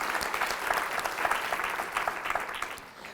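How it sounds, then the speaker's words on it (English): An audience at a talk at Memorial University in St. John's applauds, a dense steady round of clapping that tapers off toward the end. "So give yourselves a round of applause for that."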